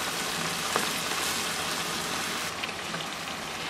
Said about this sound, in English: So you want to brown the ground beef and drain off any excess grease.